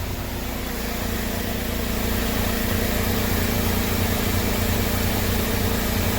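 A Mahindra Roxor idles at a fuel stop in Greenfield, Indiana, giving a steady, close engine drone with a low, even rumble and no noticeable change in pace.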